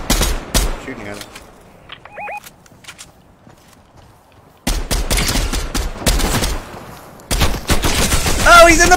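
Fortnite gunshots ring out as a few sharp cracks at the start. After a quiet lull, louder sustained bursts of rapid fire arrive close and intense, with a voice speaking briefly over them.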